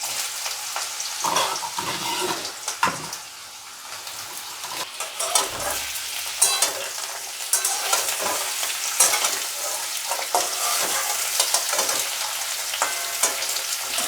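Potato slices fry in about two tablespoons of hot white oil, a steady close sizzle broken by repeated stirring scrapes and clatters, with no talking.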